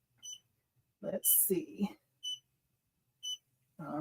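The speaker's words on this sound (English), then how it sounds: "to get rid of that noise, I'm gonna go ahead and just reverse the machine, and that will stop the noise, that beeping" An embroidery machine beeping after its thread broke, giving short, evenly spaced electronic beeps that stay steady under someone speaking briefly nearby.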